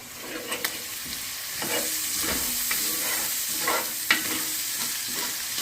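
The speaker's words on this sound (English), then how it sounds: "Alright, we're going to let this cook down a little bit." Garlic and other aromatics for a chili sizzle steadily in a hot pan, a continuous frying hiss broken by a few stirring scrapes and clacks of a utensil, close and moderately loud, with no voices.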